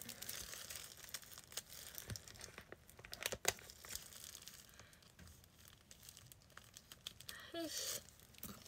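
Scissors snipping and crunching through a kitchen sponge, quiet irregular cuts and crinkly tearing sounds with a few sharper clicks, close and faint, with soft voice in the background.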